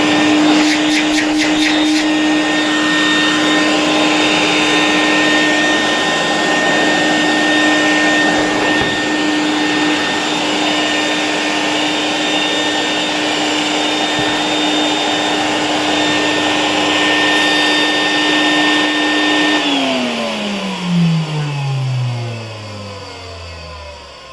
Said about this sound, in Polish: Spróbujemy w takim razie podłączyć odkurzacz do sieci.